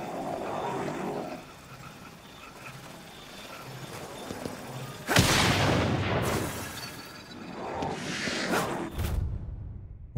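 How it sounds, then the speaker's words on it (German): Glowing red ether crystals shatter and explode in the video game Ghostwire: Tokyo, a sharp burst around the middle followed by a couple of smaller crackling bursts over a low game ambience. "leuchtende rote Ätherkristalle, die explodieren, wenn sie zerstört werden"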